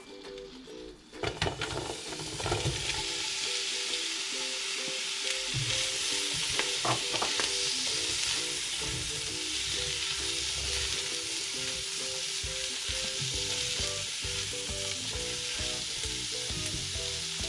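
Onions hitting hot rapeseed oil in a pan for spicy pumpkin soup, a loud, dense sizzle that bursts in and holds steady throughout, with a few scraping stirs early on, close up.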